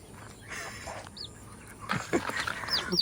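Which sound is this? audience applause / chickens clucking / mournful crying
chickens clucking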